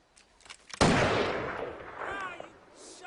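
Single loud gunshot in Grand Theft Auto 5, close and sharp, with a long echoing tail that fades over a couple of seconds, preceded by faint movement noises.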